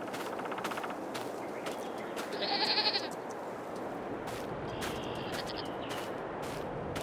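Goats on a farm in Farming Simulator 22 bleat now and then over a steady background of game ambience, one drawn-out bleat standing out midway through.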